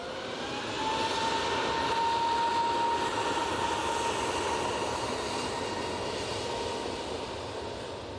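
Airbus A321neo airliner at Manchester Airport, a steady broad engine roar that swells and holds with a faint whining tone, heard from a distance without talk.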